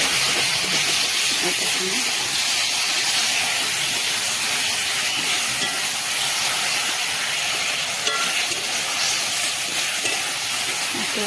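Chicken water poured into a spice masala fries with a loud, steady hiss and sizzle that fills the whole stretch, with a brief spoken remark laid over it.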